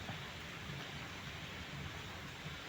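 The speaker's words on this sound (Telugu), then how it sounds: "అసలు బీభత్సమైన వర్షం, మామూలు వర్షం కాదు అసలు" Heavy rain pounds a truck on the road from Hyderabad to Vijayawada, a dense, constant roar of drops and road noise that never lets up, with no talk.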